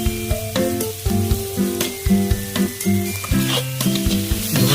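Spices with cumin powder fry in a pan for village-style chowmein, a steady sizzle broken by stirring scrapes, all under loud tonal music.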